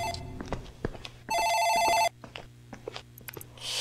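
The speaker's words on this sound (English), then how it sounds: "It's the phone in the office ring." An office phone rings in the horror video game Dark Fracture, one bright electronic ring burst lasting under a second amid scattered footsteps and small clicks, with faint room noise after.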